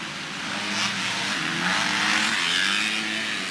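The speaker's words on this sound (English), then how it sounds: "Caleb Wells leads the way in open two-stroke." Open two-stroke race motorcycles blast past on a motocross track, a steady, loud engine roar with rising revs and no speech.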